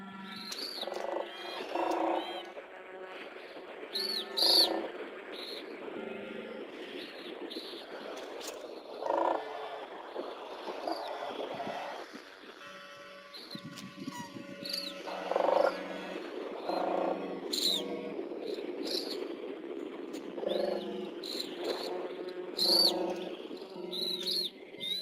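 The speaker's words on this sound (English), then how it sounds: "The white birds keep unison calling." White birds calling in unison during a migration flight arrival, repeated bursts of honking and trumpeting calls spread across the scene at moderate distance, with no talk.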